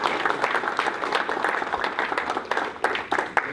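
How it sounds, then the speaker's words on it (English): An audience claps to welcome a speaker, a steady patter of many hands with distinct individual claps popping out, moderately loud and continuous. "So let's give him a round of applause"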